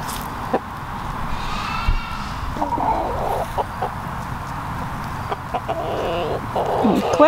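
Roosters cluck and murmur in a farmyard, soft intermittent calls over steady background noise, with a faint crow somewhere in the distance.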